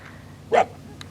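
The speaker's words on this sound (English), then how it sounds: "This one now, I don't think is barking at me, but it's barking at dogs in the distance." A wild coyote gives a single short sharp bark at middle distance, a brief yip following faintly, amid quiet outdoor background.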